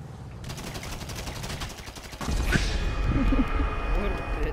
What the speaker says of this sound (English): Let me try to shoot you my flare gun.